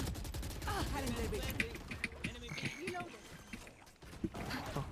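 Gunfire from the tactical shooter game Valorant crackles in bursts among other game sounds, while players talk over the action throughout.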